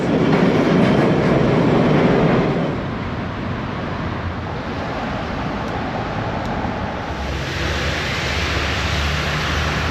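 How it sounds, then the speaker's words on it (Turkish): A New York City subway train rumbles steadily along the tracks, loud and continuous, with a heavy low roar that eases slightly after the first couple of seconds. "arkadaşlar şu an New York metro hattındayım"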